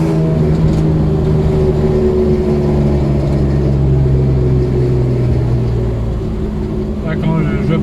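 A Ford Sierra XR4i V6 rally car pulls away on a hill start, its engine a deep, steady drone that holds strong and close for several seconds, with a voice speaking briefly over it near the end.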